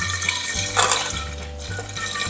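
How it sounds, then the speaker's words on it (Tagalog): Milk poured into a jar over a spoonful of yogurt for homemade Greek yogurt, a steady liquid trickle and splash heard alone at close range. "Tapos, ang gatas natin, buhos tayo ng konti na muna."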